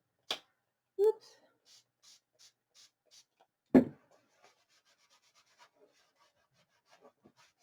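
Paint being rubbed off a Halloween junk journal page, a quiet series of short, dry rubbing strokes in a regular rhythm, close, with a few sharper taps and bumps in between.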